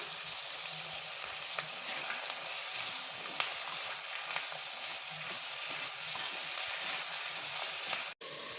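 Tomatoes with a little salt sauté in a pan, giving a continuous, even frying hiss with faint crackles throughout; near and steady, with no talk.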